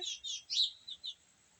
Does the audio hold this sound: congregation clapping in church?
no